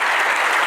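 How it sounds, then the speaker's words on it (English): Loud, dense applause from a ceremony audience at a New York State Baseball Hall of Fame induction fills the hall as a steady, close wash of clapping. "Go ahead, you can applaud."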